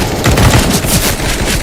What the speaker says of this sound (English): Engaging of gunfire is gonna happen.